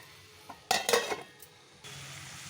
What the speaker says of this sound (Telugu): ఇప్పుడు మనం మూత పెట్టి మగ్గిద్దాం దీన్ని